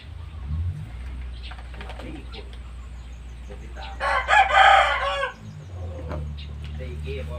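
A young rooster, the offspring of a crossbred fighting cock, crows once loudly and close up in the middle, with softer clucking and low handling noise around it.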